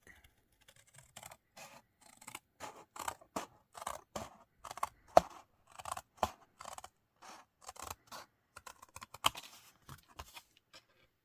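Scissors cut through a DIAM-style card, heard as a rapid series of close, crisp snips and rustling cuts in uneven bursts over about eleven seconds, with no voices.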